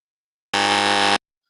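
A quiz game buzzer sounds once, a loud flat electronic tone lasting just over half a second, alone against silence.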